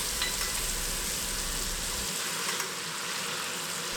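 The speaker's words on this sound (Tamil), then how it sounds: "ஸ்டவ்வை மிதமான தீயில் வச்சு ஒரு 4லேருந்து 5 நிமிஷம் மட்டும் இந்த நல்லா ஃப்ரை பண்ணி எடுத்துக்கணும்" Prawns frying in oil over a medium flame for prawn pickle make a continuous soft, even sizzle, with a low background hum that drops away partway through.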